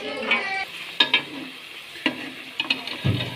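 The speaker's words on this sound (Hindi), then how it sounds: "इसी तरह आपने इसको उठाना है और ये ऑयल में फ्राई करना है।" Batter-coated potato chips go into hot oil, giving a soft sizzle punctuated by several sharp clinks and taps of a utensil against the pan, close and fairly quiet.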